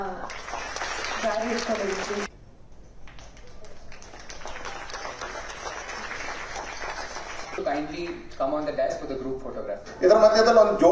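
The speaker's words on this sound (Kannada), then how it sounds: "ದಯವಿಟ್ಟು ನಿಮ್ಮ ಚಪ್ಪಾಳೆಗಳನ್ನ" Audience applause for students at a scholarship award ceremony, a broad wash of clapping near the start and again at the close, with a voice speaking over a public address system in between.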